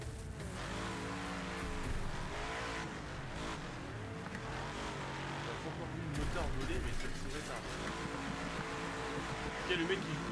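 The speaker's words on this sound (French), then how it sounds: "C'est des guêpes ou un tracteur que j'entends là?" A tractor engine in the Wreckfest racing game drones with a buzzing, wavering pitch that rises and falls throughout, loud and continuous, with a voice talking over it.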